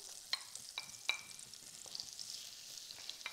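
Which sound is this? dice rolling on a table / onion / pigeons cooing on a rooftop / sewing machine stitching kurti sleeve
onion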